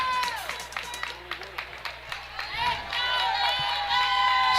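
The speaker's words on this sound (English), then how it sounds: "You can hear the Panthers fans rounding with the big cheer, trying to get their guys motivated here." Home fans in a high school boys basketball gym cheer and shout, with rhythmic claps early, then a swelling mixed crowd roar, squeaking sneakers and voices throughout.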